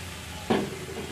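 Onions frying lightly in a pan with half a spoon of soy sauce added, a soft continuous sizzle with one short louder scrape of stirring midway, close and without talk.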